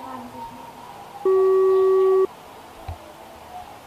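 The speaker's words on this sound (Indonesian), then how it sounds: "Bentar aku coba telepon Sela dulu ya" An unanswered phone call gives a single steady electronic tone lasting about a second, clear and fairly loud over a faint room background, with no talking.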